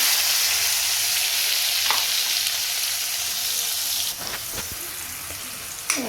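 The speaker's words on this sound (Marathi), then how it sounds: "गरम झाले तेल जिरे टाकलेत कांदा टमाटो" Cumin, onion and tomato fry in hot oil, giving a loud, continuous close sizzle with a few clinks and stirring scrapes near the end.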